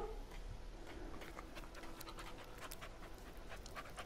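Dogmeat the dog in Fallout 4 pants quickly and rhythmically, a faint, close, steady series of breathy huffs with light scratchy ticks underneath.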